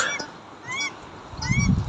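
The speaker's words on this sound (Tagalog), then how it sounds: "Napakaganda yung mga pato wild duck." Wild ducks call out with nasal honking quacks, several birds close by, brief overlapping calls against an outdoor background behind a house.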